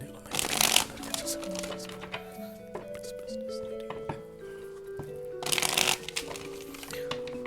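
Tarot cards being shuffled in two brisk riffling bursts, close and crisp, separated by a stretch of soft tapping and handling, with a voice speaking quietly beneath.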